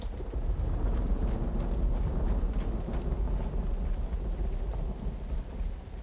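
Steady rainfall pours in the video game Uru, with low rolling thunder underneath and scattered sharper drops and crackles, continuous and fairly loud without any talking.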